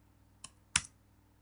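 Two quick keyboard key presses for a Ctrl+S save shortcut, a soft tap followed by a sharper click, close and isolated in a quiet room.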